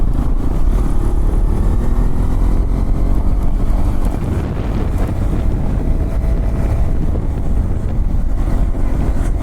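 A Hero Xpulse 210 motorcycle rides off-road, its engine droning steadily throughout while heavy wind noise rushes across the microphone, loud and close, with no speech.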